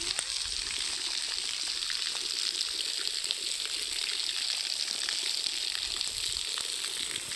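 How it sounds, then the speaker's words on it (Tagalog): Water gushing steadily into an emptied swimming pool at a bathing spot in Palawan, a continuous close rushing splash with no pauses and no talking. "Ngayon po, nilalagyan pa lang ulit siya ng tubig."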